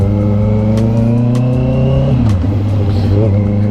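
Honda CB650R motorcycle with a new aftermarket exhaust, revving loud and close in a deep, steady roar that drops in pitch as the throttle closes.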